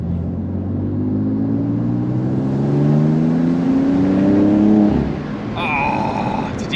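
BMW M3 in fourth gear accelerating from 25 mph, engine note climbing steadily in pitch and loudness as revs build for about five seconds, then dropping away sharply, heard from inside the car.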